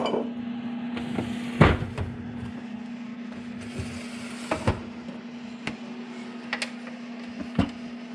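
Plastic turning trays being removed from a home egg incubator, giving scattered close knocks and clunks, one sharp bang among them, over a constant electrical hum.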